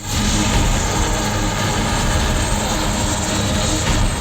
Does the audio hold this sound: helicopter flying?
yes